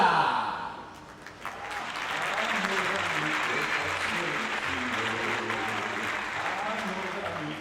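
Loud, sustained applause from a circus audience welcoming a performer, starting after a brief quieter moment and holding steady as a dense wash of clapping.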